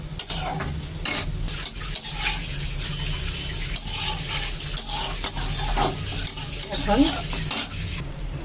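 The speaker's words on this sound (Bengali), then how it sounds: "একটু জল দিয়ে এখন কষিয়ে নেব" Spiced shrimp masala with potato and eggplant sautéing in a pan after a splash of water, with a continuous sizzle and busy scraping and clinking of a spatula, close and fairly loud.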